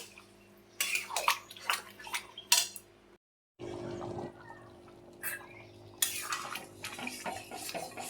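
Kabuli chickpeas are poured into a pan of cooked potatoes, giving bursts of clattering and wet splashing with a brief silent gap, then steady stirring and scraping noise close by.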